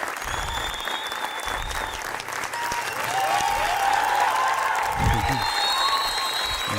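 Audience applauds after a motivational life-story talk in Ethiopia, sustained clapping spread across the whole stretch with a swell of louder claps near the end, while a voice speaks over it.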